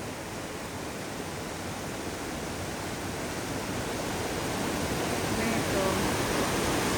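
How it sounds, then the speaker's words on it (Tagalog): Strong waterfall in Austria roaring as a steady, dense broadband rush of water, loud and close, swelling slightly toward the end with no break. "Ang lakas ng agos."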